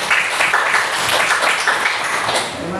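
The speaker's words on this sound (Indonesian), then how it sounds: "Tepuk tangan untuk kelompok 1." A classroom group claps for a student team after their presentation, a brisk close patter of hands that stays steady and fairly loud for a few seconds.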